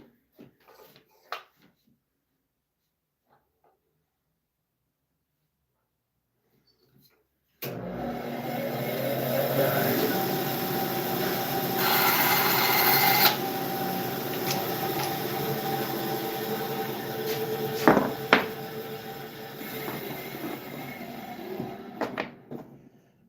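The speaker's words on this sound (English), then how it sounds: "get this one in half on the bandsaw." A bandsaw cuts a piece of wood in half in a woodshop: after several seconds of near silence the machine starts up with a loud steady whine and hum that continues to the end, a brief louder blade bite near the middle.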